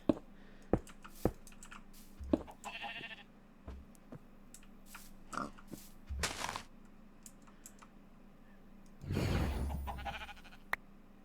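Sheep bleat in the Minecraft video game, several short cries scattered among sharp keyboard typing and mouse clicks, ending in a longer, louder bleat near the close.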